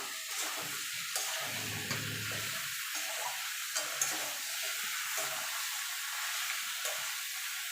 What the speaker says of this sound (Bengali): এবার ভালো করে নেড়ে দেবো